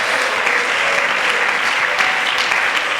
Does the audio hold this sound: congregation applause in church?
yes